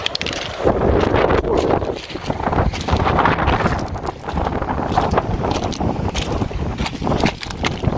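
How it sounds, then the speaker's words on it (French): Wind gusting hard on a sandy beach, a loud continuous buffeting roar across the mic with surges and dips, no talk over it. "Désolé s'il y a du vent."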